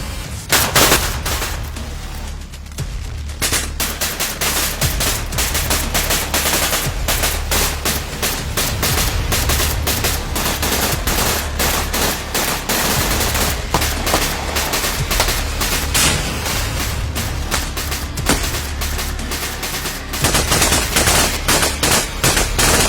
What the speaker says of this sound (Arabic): كي صرا لي الاشتباك وبدا الرصاص